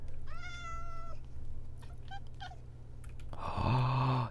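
A video game cat gives a clear, drawn-out meow, then a few short chirps, and ends with a louder, closer meow over a low steady hum.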